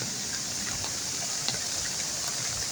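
Steady broadband hiss of heavy rain falling on a rural dirt road in the countryside backlands, constant and enveloping with no clear individual drops, no voices.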